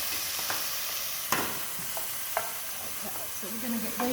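Mushrooms sizzling in a frying pan as a utensil stirs and scrapes them, a steady close hiss broken by occasional clacks against the pan.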